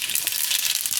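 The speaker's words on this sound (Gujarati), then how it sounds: "અને તેલ આપણું ગરમ થઈ ગયું છે તો એમાં થોડીક રાઈ નાખશું આપણે" Mustard seeds dropped into hot oil for a Gujarati spinach and brinjal dish, a dense bright crackling sizzle with rapid popping, close and steady for about a second.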